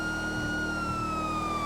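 A police car siren sounds steadily as a sustained, slowly falling electronic wail, moderately faint, with a low engine hum beneath and no speech.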